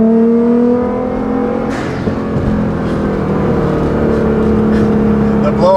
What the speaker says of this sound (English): The blow-off valves make it a very emotional experience.